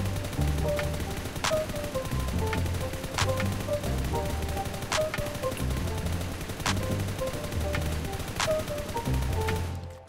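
Automatic gunfire sprays in the New State Mobile shooter game, sustained bursts of rapid shots with sharp periodic cracks, loud and continuous across the whole stretch with no talk.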